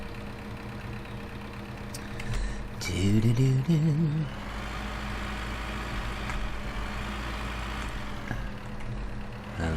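A tractor engine in Farming Simulator 15 drones steadily at close range throughout, with a brief louder patch where a voice hums a short melody over it.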